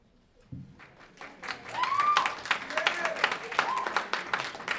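An audience claps for the performer at a lyrics and song event, the applause rising from quiet into a steady, moderately loud patter of many hands, with voices and cheers mixed in.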